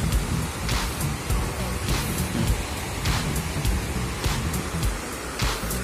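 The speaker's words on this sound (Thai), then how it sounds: "น้ำหมาไหลมาจากเวียดนาม" Broad, steady rushing of the Ma River flowing down from Vietnam, heard near a bridge crossing in the rainy season, a continuous loud wash with no talk over it.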